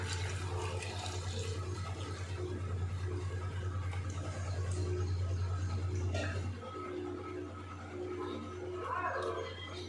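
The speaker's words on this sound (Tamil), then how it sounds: "இப்போ வந்து தேவையான தண்ணி ஊற்றிக்கலாம்" Water splashes and pours steadily into a cooking pot over a low constant hum, with faint clatter near the end.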